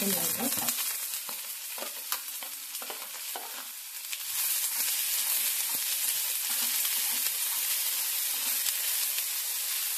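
Capsicum sizzling and frying in a pan for white sauce pasta, with stirring scrapes early on, then a steady loud hiss of oil, close and without talk.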